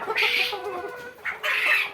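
Tiger breed chickens cluck at a poultry farm in Bakshiganj, Jamalpur: two close, loud bursts of clucking separated by a short pause.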